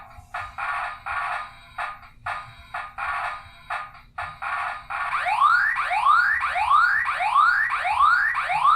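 An electronic alarm from a Star Wars Star Destroyer Strike toy board game pulses in regular bursts, then switches to a rapidly repeating rising siren-like whoop, loud and close.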